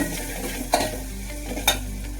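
Chopped tomatoes sizzling and being stirred in a pan, a steady soft fry with a couple of sharper scrapes of the spoon, close and without talk.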